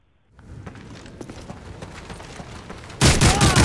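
Rapid grenade launcher fire in a shooter video game, a loud burst of explosive blasts bursting in at the end after a stretch of scattered, muffled gunfire and footsteps.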